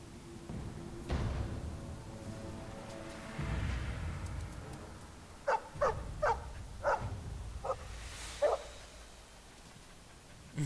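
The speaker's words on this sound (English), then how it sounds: "Cute dog." A dog barks in the video game Dragon Age: Origins, a run of about six sharp, evenly spaced barks close up, following a low rumbling game background with brief thuds.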